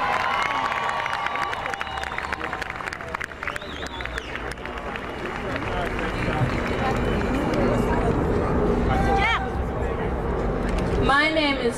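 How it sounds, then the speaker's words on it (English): A crowd at a public event cheers and applauds, a broad wash of clapping and whoops that swells toward the end, with shouting and chatter mixed in and a voice speaking over it at times. "Give them a big hand."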